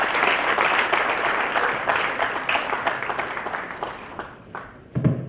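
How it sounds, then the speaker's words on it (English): Audience at an international students' graduation ceremony applauding the graduates, a dense, steady wash of many hands clapping that thins toward the end, with a brief louder thump near the close. "Let's take this time to please congratulate our graduates by clapping for them."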